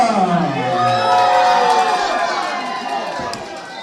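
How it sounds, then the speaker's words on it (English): Crowd cheering and whooping at a live indoor professional wrestling show in Pelham, a steady roar of voices with excited shouts and a commentator's voice running through it throughout. "Crowd here in Pelham really loves Ouga Booga."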